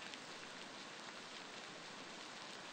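Steady rain from the video game Beasts of Bermuda, a dense even hiss of falling drops that continues without a break, fairly close and alone with no voices.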